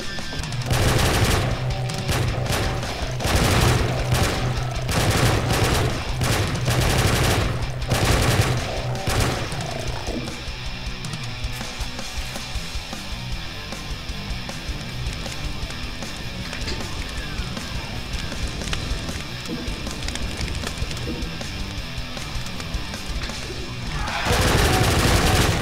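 Dense video game gunfire from Doom: Sigil, played in GZDoom on the Hell Keep level, rattles in loud rapid bursts for several seconds, then gives way to quieter game sounds and music.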